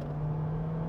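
Honda Civic Type R EP3 engine held high at about 6000 rpm, a steady, loud, sustained drone with a strong constant tone, close and continuous with no speech.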